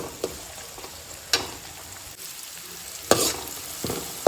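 Chopped onion and tomato fry in a pan over a medium gas flame for crab masala, giving a low steady sizzle broken by a few sharp bursts as the mixture is stirred.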